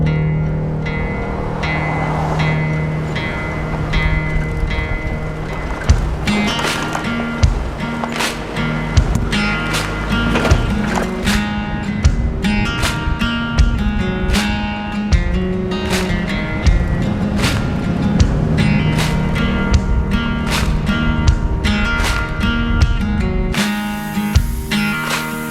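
Toyota pickup driving a dirt road at Domingo Pass, a steady engine drone with constant rattling, thumps and bumps from the rough surface, close and continuous throughout.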